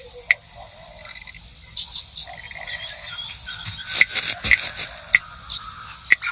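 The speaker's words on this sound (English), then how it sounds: "This pitter-patter of vibrations is thought to mimic the sound of rain, drawing insects from hiding." A large frog drums out a rapid pitter-patter of vibrations, soft scraping taps and croaky clicks with sharp pops scattered through, close and fairly quiet.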